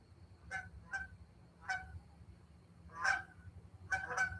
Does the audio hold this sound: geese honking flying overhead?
yes